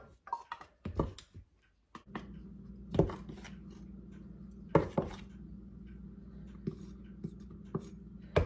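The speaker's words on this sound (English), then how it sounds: "I like to spoon through my flour and not have just a big clump of it." A spoon scrapes and taps through all-purpose flour while measuring cups are filled. Several soft scuffs and sharper clinks come close up over a low steady background hum, with no talk.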